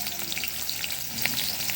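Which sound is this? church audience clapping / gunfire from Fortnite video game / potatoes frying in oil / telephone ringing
potatoes frying in oil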